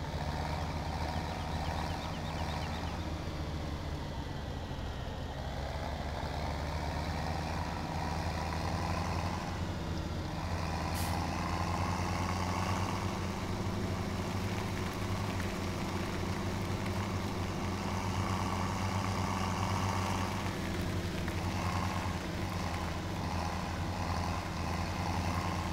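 Tractor engine in the video game Farming Simulator 17, a continuous low diesel drone at idle and steady running, even in loudness throughout with slight shifts in pitch, no talking.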